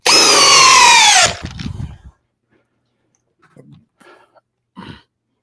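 A Makita 40V power tool spins up with a loud, rising whine against a big bolt for just over a second, then cuts off, followed by a few faint clicks and rattles.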